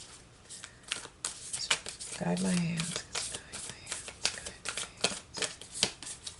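A tarot card deck being shuffled by hand gives repeated crisp riffling and rustling bursts across the whole stretch, with one brief spoken phrase in the middle.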